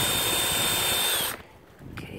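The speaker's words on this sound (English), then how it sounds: "Okay, I'm gonna get these pre-drilled" A power drill pre-drills holes for post-mounted solar lights on a flat step railing, a loud steady whine for just over a second before it cuts off abruptly, then a quieter stretch with a faint brief sound.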